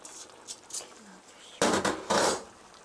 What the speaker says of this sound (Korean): 자, 그 다음 썰어놓은 배추 넣어주세요.